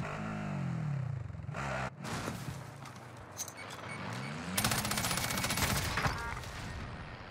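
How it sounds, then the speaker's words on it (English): Rapid M16 rifle fire in the video game Warzone, bursts of dense shots mixed with vehicle engine revving and passing rumbles, loud and close, with no talk. "Damn, this M16 shoots fast"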